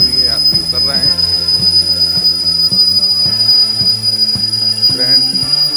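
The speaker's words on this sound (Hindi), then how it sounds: "हमारी ट्रेन सामने आके खड़ी हुई है" Jodhpur Indore Express at the Indore station platform, loud steady rail noise with repeated squealing and clanking metallic tones from wheels and cars, and a faint voice in the background.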